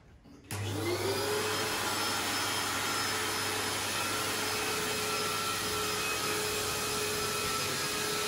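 A blower-style electric air pump starts abruptly and runs in a loud, steady drone as it inflates a bouncy castle, a continuous whir with a low hum underneath and no voices.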